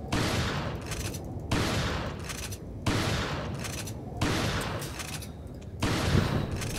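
Gunfire in the video game Resident Evil 4 Remake, five loud, close blasts at regular intervals of about one and a half seconds, each with a long rumbling decay.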